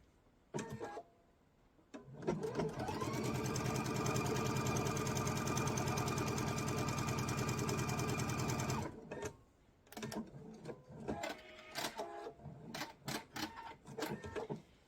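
A sewing machine stitches a scant quarter-inch seam, running in one steady, close whirring burst for about seven seconds, then stopping and starting in short, uneven bursts.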